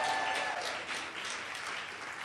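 An audience claps steadily for about two seconds at a moderate, even level, a dense wash of many hands with no voices over it.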